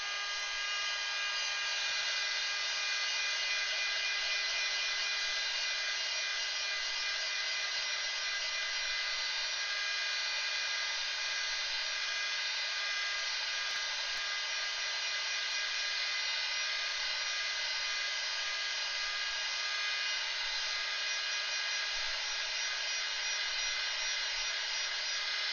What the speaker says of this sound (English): We're going to take our dryer,